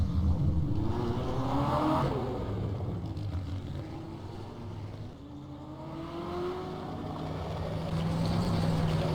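A BMW M8 GTE race car in the rFactor 2 racing game, its engine revving up and down through gears with rising and falling tones, loud and continuous with no talking.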